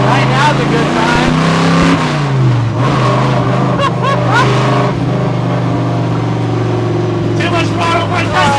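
A 1955 Chevy gasser's engine roars loud and close while driving, revving up and dropping as gears are shifted, with a rough, throaty V8-style drone throughout and people talking over it.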